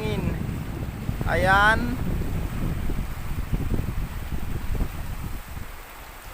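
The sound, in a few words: strong wind at the sea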